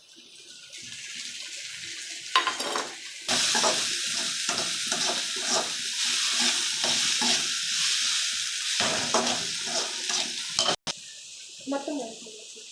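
Tomatoes stirred into a pot of boiling Maggi noodles, giving steady bubbling and sizzling with scraping stirs and a splash of water, close and continuous, with a brief break near the end.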